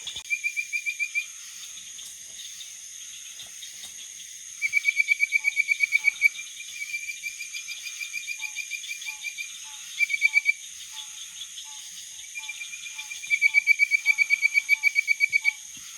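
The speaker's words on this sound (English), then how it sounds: "you guys can hear how many frogs are calling over there" Many frogs call at once at a pond in Alabama, a dense chorus of rapid pulsed trills rising and falling in bursts over a steady high insect-like drone, heard from a distance.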